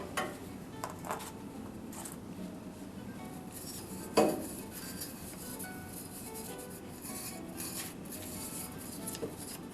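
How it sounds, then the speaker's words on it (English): Bristle brush scraping the metal burn pot of a HearthStone pellet stove, with soft intermittent scratching strokes and a single sharper metallic knock partway through, close and quiet. "If necessary, you can scrape it down with your bristle brush."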